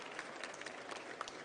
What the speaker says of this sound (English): Warm round of applause before we all hit to lunch.